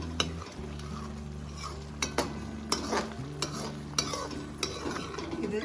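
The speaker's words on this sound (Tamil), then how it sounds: "இது நல்லா கொதிச்சு இன்னும் கொஞ்சம் கெட்டியாக ஆகட்டும்." Capsicum kurma gravy bubbling and thickening in a pan while a spoon stirs it, giving regular scraping knocks against the metal every half second or so over a low simmering sizzle.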